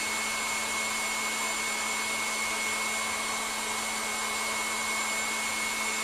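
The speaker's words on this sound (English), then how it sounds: "sometimes you hear the mixer just change tone slightly, and that's when you know that the mixture's got nice and thick" An electric mixer whisks a mixture toward stiff peaks for biscuits, giving a loud, steady motor whir with a fixed electric hum and high whine that runs on without a break and with no talking.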